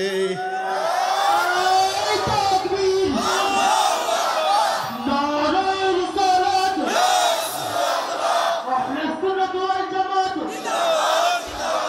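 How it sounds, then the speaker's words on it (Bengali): A large crowd at an outdoor Islamic sermon gathering shouts the takbir in loud, repeated unison, voices swelling and falling in waves across the whole stretch. "আর জবান খুলে জোরে একটা তাকবীর দে"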